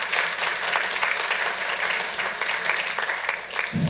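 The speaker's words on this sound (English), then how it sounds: "A round of applause for them." Round of applause from the audience at a Santa Ana City Council meeting, a steady, fairly loud patter of many hands clapping throughout, with a brief low thump near the end.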